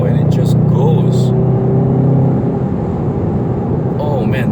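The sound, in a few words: Volkswagen Golf GTI 2.0 accelerating hard in sport mode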